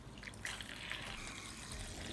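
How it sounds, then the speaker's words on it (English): Tap water runs into a container to wash fresh tomatoes, a faint steady splashing trickle with small drip-like accents throughout. "So I'll let it fill up with the water and we'll go ahead and wash it."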